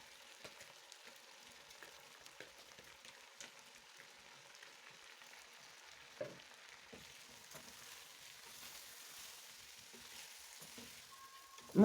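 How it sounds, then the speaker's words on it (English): Rice being stirred into beef and spices in a hot pot for Kenyan beef pilau gives a steady, quiet sizzle, broken by a few soft scrapes and clinks of the spoon. "Then add in rice in a mixture of beef and spices."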